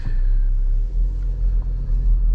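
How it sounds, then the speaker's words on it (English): Low, close rumble from a 2021 Škoda Karoq 2.0 TDI 150 HP 4x4 with DSG gearbox as it pulls away at night, a steady engine drone heard from inside the cabin. "So let's put it to drive and head driving."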